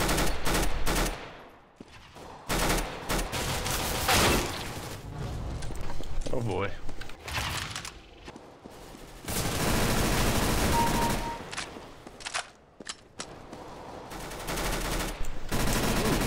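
Bursts of rapid gunfire from a CSGO match come in loud clustered volleys separated by short quieter gaps, with a voice talking over parts of the action.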